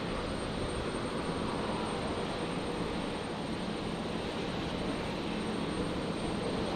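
A Virgin Boeing 737 jet taxis at Brisbane Airport, its engines a steady, broad roar that holds at an even level throughout, with no talk.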